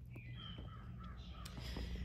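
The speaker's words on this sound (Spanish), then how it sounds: "Oigan los pájaros, qué belleza." Birds call at dawn around six in the morning, with crow-like caws and thin chirps over a low steady background hum, faint and distant.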